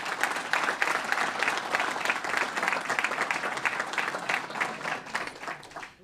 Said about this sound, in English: a round of applause for Superintendent Long